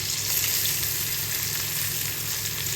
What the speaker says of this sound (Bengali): এটা দিয়ে একটু সময় নিয়ে আস্তে আস্তে আবার ভাজা হবে।